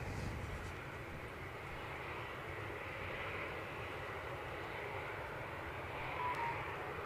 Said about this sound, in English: So the aircraft we are gazing on is British Airways inbound from Heathrow. It's an Airbus A319